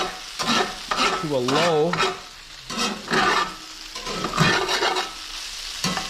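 Yellowstone cutthroat trout and vegetables fry in a pan with a low, steady sizzle beneath a man's close, continuous talking.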